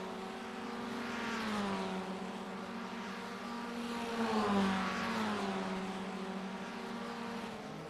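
Open-wheel Formula Ford 1600 race cars dueling for position at Okayama in the iRacing simulator, engines droning and pitch sweeping up and down through gear changes, steady and moderately loud with no talking.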